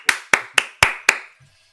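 Five sharp, separate hand claps at a fairly even pace, close and loud, with a short gap of quiet after them and no talk. The clapping is applause for a win during an online casino slot bonus hunt.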